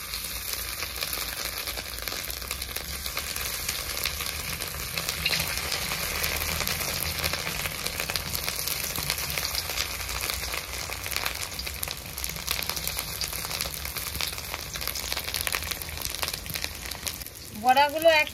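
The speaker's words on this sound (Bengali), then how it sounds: "তেলটা গরম হয়ে গেছে, এবার মাছের ডিমের বড়াগুলো ভেজে নেব।" Fish roe fritters fry in hot oil, producing a steady, soft sizzling hiss at close range for a long stretch, with a brief voice appearing just at the end.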